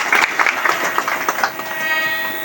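An audience claps at a Guru Purnima festival gathering, a brief burst of applause that fades out after about a second and a half, leaving a faint tonal hum.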